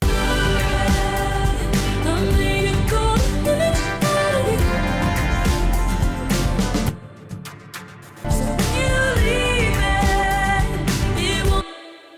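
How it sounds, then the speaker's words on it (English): A steady electronic drum machine beat plays within a dense, full music mix, dropping out briefly near the middle before the groove returns. "those beat machines sound like this."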